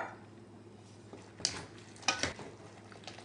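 Bread stuffing with chicken broth and a whisked egg being stirred in a bowl gives soft, wet squelching and scraping, with a few sharper clinks of the utensil against the dish.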